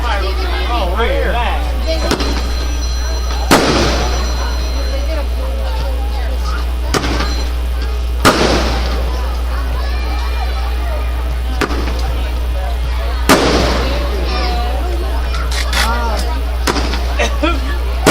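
Fireworks bursting outdoors at a church celebration, with sharp booming explosions spaced every few seconds over a constant low hum, while people talk in the background.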